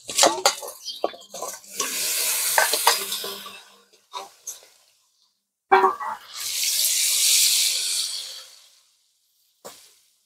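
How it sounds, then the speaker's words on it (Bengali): Prawns frying in hot oil in a pan, heard as two broad bursts of sizzling with bright hissing crackle, separated by short clinks and scrapes of a utensil against the pan, fairly close and with no talking. "বাকি মাছগুলো ভেজে নেবো।"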